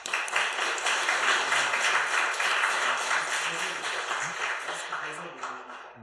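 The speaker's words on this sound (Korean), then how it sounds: "올라오실 때 박수로 뜨겁게 환영하겠습니다." A church congregation applauds to welcome a guest preacher at a Sunday evening service, with steady clapping that fills the room for several seconds and fades slightly toward the end.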